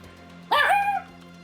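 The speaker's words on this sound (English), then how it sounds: "the smaller dog has now decided it is time to start barking at anyone who goes past" One short, high yip from a small dog, close by and loud against a steady background hum.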